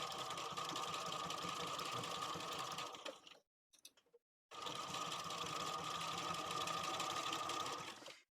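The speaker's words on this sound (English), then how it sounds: "And since this is a top stitch, just take your time." A domestic sewing machine top stitching fabric on a duffle bag, running in two steady, close bursts of rapid mechanical whirring separated by a brief pause with a few faint clicks.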